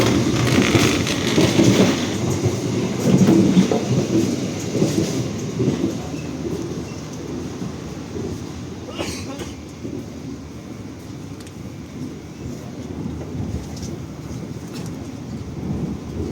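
A KA Progo passenger train rumbles along steadily between Yogyakarta and Jakarta with low mechanical noise and faint rhythmic clatter, continuous and moderately loud throughout.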